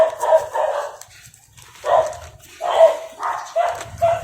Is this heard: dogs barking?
yes